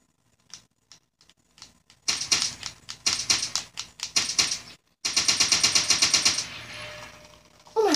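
Rapid automatic gunfire in Black Ops 2, a few scattered single shots followed by two dense, loud bursts of rattling fire separated by a short pause, with no voices.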